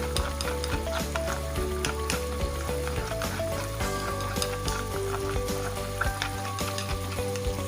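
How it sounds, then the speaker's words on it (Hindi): Masala for a fish curry fries in a pan with a loud, steady sizzle that fills the whole stretch, and a spoon scrapes and stirs through it. No one speaks. "ये मसाला अच्छे से भुन रहा है।"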